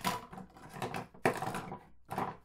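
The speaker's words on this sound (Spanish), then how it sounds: "Cuando quiero cortar el foamy tipo toalla" Scissors cut through a towel-textured foam sheet, making a few close crunchy snips and rustles in uneven bursts with short pauses between them.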